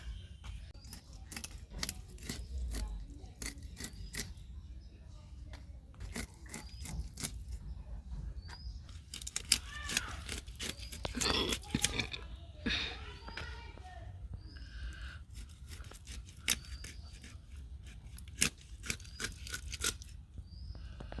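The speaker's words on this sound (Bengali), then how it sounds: "আমি একটু ছোট ছোট করে পিস করে নিতেছি, যাতে ভিতরে মশলাটা ভালোভাবে যায়।" A knife chops rohu fish into small pieces on a board, giving irregular sharp taps and clicks that come in scattered clusters against a quiet room.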